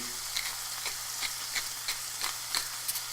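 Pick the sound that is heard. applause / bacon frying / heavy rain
bacon frying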